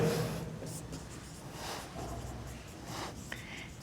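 Pen or chalk strokes on a board during a chemistry class form soft, close scratching bursts in an irregular rhythm over a quiet room, with no talk.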